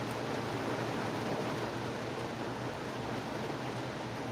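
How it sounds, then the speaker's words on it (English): Heavy rain pours down in a dense, steady hiss that fills the whole clip without a break, with no voices over it. "Look how hard it's raining right there."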